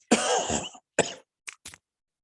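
A loud, harsh cough, followed by a shorter cough and two brief, quieter throat-clearing bursts, close up with silence between them.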